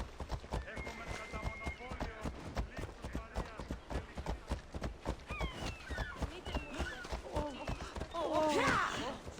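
Horse hooves gallop in a steady clip-clop beneath game dialogue and combat noise in Assassin's Creed Odyssey, with a louder burst of action near the end while people talk throughout.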